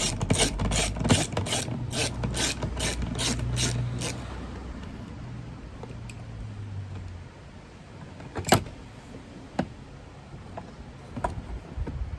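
A ratchet wrench turns screws on a VW Golf during a home service, giving a fast, even run of close clicks for a few seconds, then quieter scraping and a few sharp isolated knocks.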